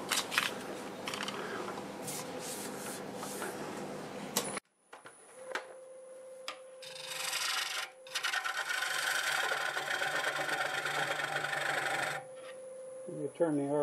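A wood lathe turns a piece of English walnut as a gouge cuts it, giving a steady scraping hiss with a faint motor hum, broken by a brief pause and some handling knocks.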